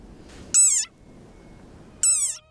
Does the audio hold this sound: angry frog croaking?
yes